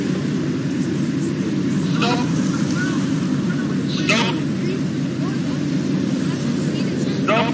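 A boat engine drones steadily at sea near the Greek coast, a loud continuous rumble with wind, while voices shout intermittently over it.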